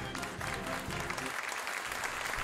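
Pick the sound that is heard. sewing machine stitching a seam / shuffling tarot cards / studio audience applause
studio audience applause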